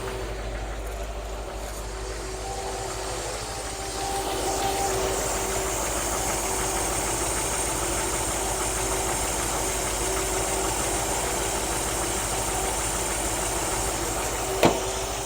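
A warm car engine idles steadily just after starting in a driveway, giving a constant low rumble with faint mechanical ticking and a single sharp click near the end, with no voices.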